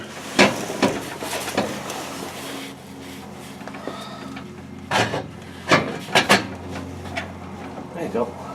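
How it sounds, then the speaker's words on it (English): An exhaust pipe is worked into a muffler while fitting a cat-back system on a 2006 Ram turbo diesel, with scraping metal rubs and sharp knocks coming in irregular bursts, some of them overlapping quiet talk. "Slipping pipe into muffler."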